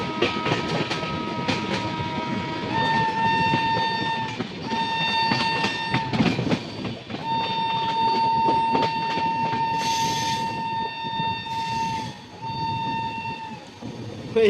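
Heard from aboard the Kulik Express in the Rampurhat section, a passenger train rumbles loudly over the rails with rhythmic clatter and a long, steady horn blast sounding through much of the run.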